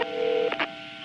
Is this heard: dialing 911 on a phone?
yes